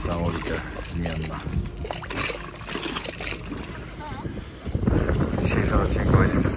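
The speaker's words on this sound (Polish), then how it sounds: "będziecie słyszeć dużo wiatru, bo tak strasznie wieje, że mikrofon nie pomaga nawet" Strong Antarctic wind buffeting the microphone, rumbling and gusting loudly under a man's speech, then swelling harder near the end of the clip.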